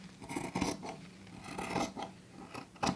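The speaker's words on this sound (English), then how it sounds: "take your scissors and trim away that excess" Scissors snip through fabric while trimming excess from a bag lining pocket, a few close, crisp cuts in irregular rhythm with no talking.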